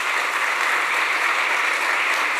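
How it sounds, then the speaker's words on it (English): Audience applause at a devotional talk show, dense, even clapping sustained at full strength for the whole short stretch without any break or voices. "can we have a round of applause for that?"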